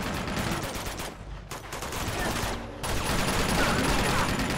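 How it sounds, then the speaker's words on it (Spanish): Machine gun fire in the Uncharted 2 video game, dense rattling bursts that break off briefly twice and then resume, loud and continuous with someone talking faintly under the shooting. "Guarda con la ametralladora"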